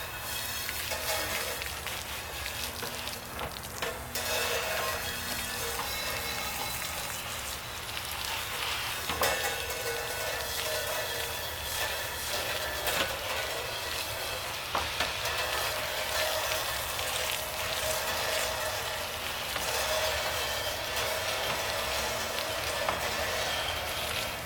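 Water rinses freshly cleaned cymbals in a steady, continuous rushing spray that holds at an even level throughout, with no voices present.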